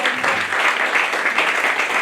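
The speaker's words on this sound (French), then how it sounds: "Applaudissez-moi, merde." An audience applauding a comedian at a stand-up show, a brief, steady burst of many hands clapping together with no pauses.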